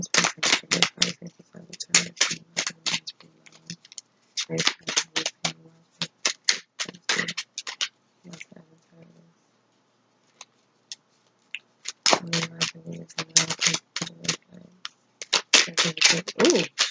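Tarot cards being shuffled during a reading, with bursts of quick riffling and flicking in close, loud runs that pause midway and then resume, with no talk.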